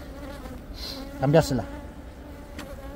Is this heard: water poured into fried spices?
no